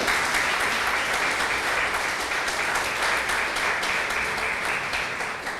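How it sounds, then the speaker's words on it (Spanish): Steady, sustained applause from a church congregation, dense and even throughout with no gaps or voices rising above it. "Dale ese aplauso al Señor."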